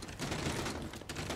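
Rapid bursts of gunfire in Mafia 3 crackle loudly and continuously, with a dense, noisy texture like sustained automatic shooting.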